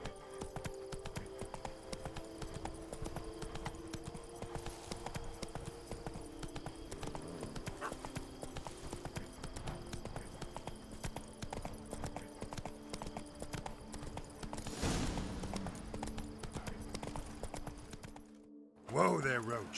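Roach the horse's hooves clip-clop in a steady rhythm in The Witcher 3, close and continuous, with a brief louder burst near the end and game voices talking over it.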